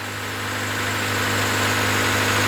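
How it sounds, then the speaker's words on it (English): A 1998 Honda Civic engine idles steadily right after a valve lash adjustment and oil change, a loud, close, even hum with a constant low drone and no voices over it. "A lot of that squirrely engine noise is actually gone."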